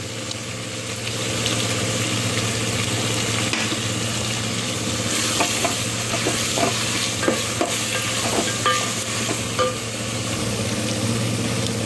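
Ginger garlic paste fries in a pan for a mushroom biryani, sizzling steadily while a spoon scrapes and stirs it in short, uneven strokes, close up and with no talking.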